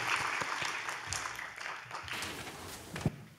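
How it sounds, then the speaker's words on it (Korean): Church congregation clapping during a Sunday afternoon worship service, a loose, uneven applause with scattered individual claps and a sharper clap near the end. "할렐루야, 영광의 박수를 하나님께 보내드리겠습니다."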